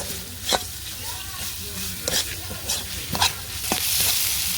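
Food being stirred and mixed in a frying pan, a steady sizzle broken by several rhythmic scraping strokes of a spoon against the pan, close and alone without speech.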